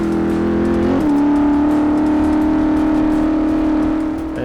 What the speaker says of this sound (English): Just loved the look, the sound of a tough V8.